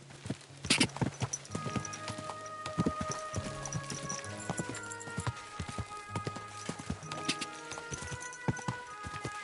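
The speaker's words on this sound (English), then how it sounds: "Don't you know how to ride a horse?" Horse hooves clip-clop steadily while riding in the game Kingdom Come: Deliverance II, close and fairly loud, with jingling tack and an uneven, slowing gait; no talking.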